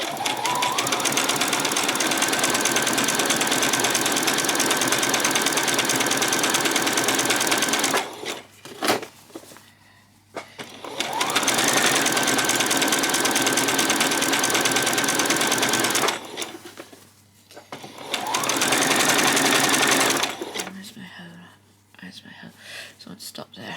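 Sewing machine stitching around a peasant skirt, three long runs of loud, rapid mechanical whirring separated by brief pauses.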